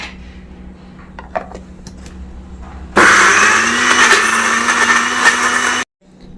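A kitchen mixer grinder crushes mango and ginger chutney with salt and curry leaves in a loud, steady whirring burst of about three seconds that cuts off abruptly, after quieter kitchen clatter.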